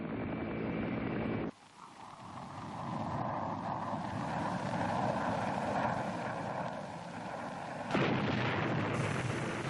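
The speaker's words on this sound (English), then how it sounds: "Fighter bombers and helicopter gunships hammered the landing zones." Aircraft engines of fighter bombers and helicopter gunships roar continuously with heavy rumbling and a sudden swell of noise, like distant bombing and low-flying planes, loud and sustained.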